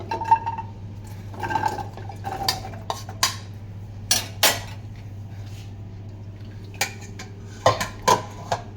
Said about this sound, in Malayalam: കൂർക്ക എല്ലാതും